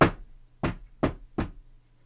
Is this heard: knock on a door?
yes